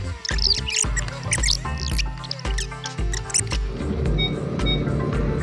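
Parking sensor on a brand new van beeping in quick repeated electronic pips, fairly loud and close, with other short chirps over a low engine hum.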